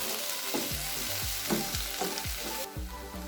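Eggplant pieces fry in a pan and are stirred, giving a steady loud sizzle with repeated scraping strokes of the spoon about every half second, no voices.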